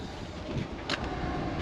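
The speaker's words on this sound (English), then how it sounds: "Now we've got a train going past." A train rumbles past in the distance beside a garage workshop where work on a Jaguar is under way, a steady low broadband roar with a brief brighter swell near the middle.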